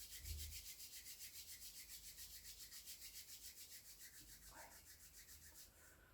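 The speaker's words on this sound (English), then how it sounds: "Rub your hands together." Palms rubbed briskly together in a steady back-and-forth swish, about three strokes per second, repeating evenly for several seconds at close range with no talking.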